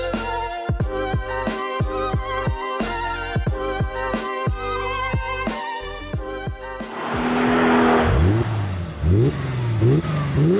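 A 171-chassis Mercedes SLK 350 engine revs in short, sharp blips with quick drops between them, then settles into longer rising and falling sweeps, loud and close.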